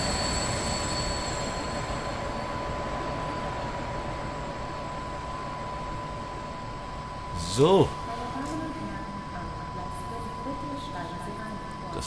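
A regional train in Train Simulator 2022 on the Köblitzer Bergland line gives a steady rumbling drone with a faint high whine, broken by a short squeal near the end; someone speaks briefly.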